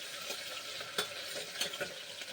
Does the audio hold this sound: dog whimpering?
no